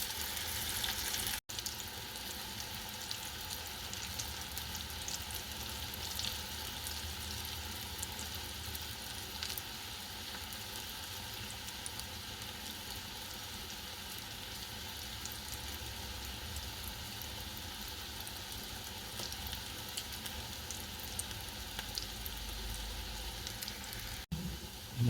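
Irish potato cakes fry in a pan as a faint, even sizzle that carries on without pause through the whole stretch, with no talking over it.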